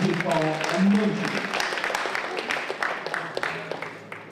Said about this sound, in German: Und dieser Applaus, der gehört hier dir.